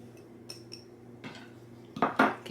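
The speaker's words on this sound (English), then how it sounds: "Give that a mix." Cheddar biscuit batter with garlic and green onions is mixed in a bowl, with a few soft utensil clinks followed by louder scraping and knocking of a spoon against the bowl near the end.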